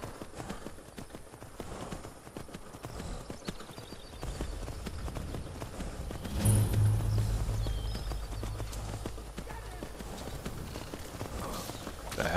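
Hooves of a horse in the game Skyrim VR clip-clop steadily at a walking pace amid rustling ambience, fairly close, with no talk.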